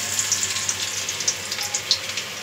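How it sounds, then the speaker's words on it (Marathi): Finely chopped garlic dropped into hot oil, with a steady bright sizzle and scattered crisp pops and spits, close and fairly loud with no talking over it. "लसूण बारीक चिरून घेतलेला आहे, तो मी टाकणार आहे याच्यामध्ये तेलामध्ये"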